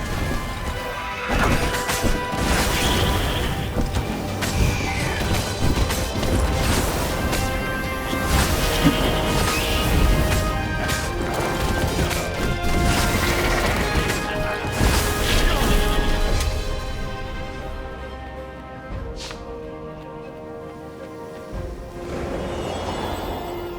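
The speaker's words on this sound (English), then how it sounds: "Smashing things was fun." Repeated smashing and crashing of breakable objects in the action game Stories: The Path of Destinies, loud and close, with overlapping impacts, shattering debris and thwacks over a continuous game soundscape, tapering off near the end.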